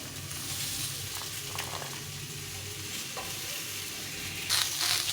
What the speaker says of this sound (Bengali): এখানে সবজিটা ভাজা হয়ে গেছে সুন্দরভাবে ভেজে নিয়েছি